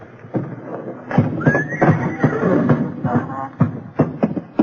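Horses whinny and neigh repeatedly in barn stalls as an old-time radio drama sound effect, with loud, close calls and some shuffling and stamping between them.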